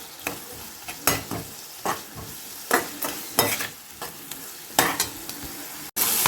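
A spoon stirs and mashes tomatoes frying in oil in a pan for Karaikudi chicken curry, with about eight close, scraping strokes at an uneven rhythm over a soft sizzle.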